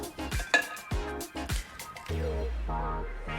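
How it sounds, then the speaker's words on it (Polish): A few ice cubes set down on a dish, several hard clinks and knocks in quick succession, followed by a low ringing hum. "Następnie układamy kilka kostek lodu na naczyniu."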